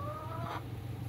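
A broody hen on a farm gives a single short, soft cluck, faint against low background noise.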